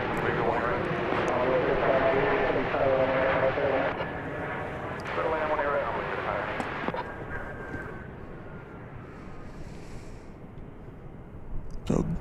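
American Airlines Boeing 777 jet roaring down the runway on takeoff at DFW Airport, a loud broad engine rumble that slowly fades as it departs, with a voice talking over it.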